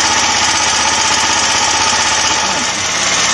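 A 13HP engine runs loud and steady in a workshop, a continuous pulsing rumble with a fast regular knock throughout and a slight dip near the end.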